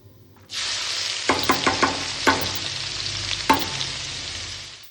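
Chopped garlic and onion drop into hot oil with whole cumin, bursting into a loud, even sizzle, with a handful of sharp clicks and scrapes from a spoon stirring in the pan.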